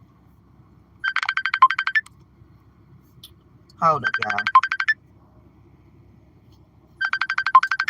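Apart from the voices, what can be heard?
phone ringtone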